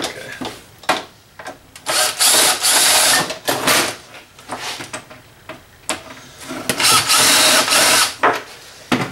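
Close, loud bursts of a screwdriver bit grinding and whirring as tamper-proof screws are backed out of a plastic printer housing being scrapped, several separate runs of a few seconds each with short pauses between them.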